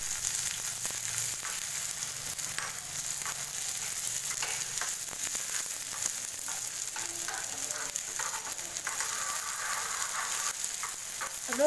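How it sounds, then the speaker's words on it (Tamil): Small shallots and garlic fry in oil in a pan over a low flame, giving a steady, dense sizzle with occasional crackles and faint stirring scrapes. The sound carries on without a break and no one speaks. "அது இதில் சேர்த்துட்டு வெங்காயத்தை நல்லா வறுத்து விட்டுக்கலாம் ஃப்ரெண்ட்ஸ்"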